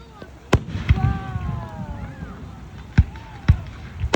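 Fireworks going off in rain, heard as several sharp, separate bangs spaced irregularly over a few seconds, with a whistling rise between them, background crowd murmur and people talking nearby.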